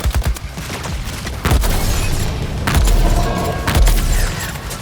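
Deadshot laying down cover fire in the video game Suicide Squad: Kill the Justice League: loud bursts of gunfire punctuated by several heavy booming impacts, close and forceful throughout.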